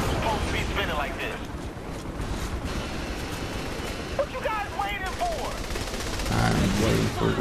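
Sustained automatic gunfire from a weapon in Saints Row: The Third, a loud continuous rattle throughout that changes character near the end, with voices talking over it.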